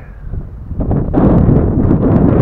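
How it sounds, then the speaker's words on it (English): Strong lakeside wind buffets the microphone in a loud, roaring rumble that swells partway through and stays heavy, with no voices. "It's a very windy day, if you can't already hear"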